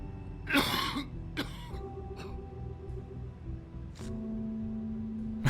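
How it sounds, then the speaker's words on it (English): A single sharp cough up close from a video game character in The Wolf Among Us, followed by a few softer throat-clearing sounds over a quiet background hum. "Got a cough?"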